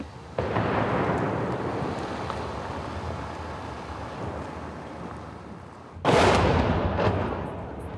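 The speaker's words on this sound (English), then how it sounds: "Both sides have deployed artillery, and they're firing day and night." Artillery fires in the frontline city of Bakhmut, a deep, heavy rumbling boom that rolls on for several seconds. A second, sharper blast hits loudly around the six-second mark and trails off into a low reverberating roar.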